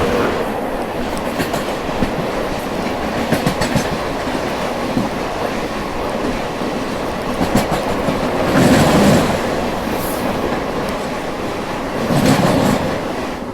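The Magadh Express passenger train approaches on the railway with a steady heavy rumble and clickety-clack of wheels on rails, swelling louder in a couple of surges.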